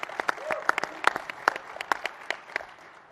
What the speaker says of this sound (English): I love that they clap more for Speaker Renner than you, President Corcoran.